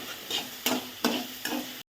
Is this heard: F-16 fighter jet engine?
no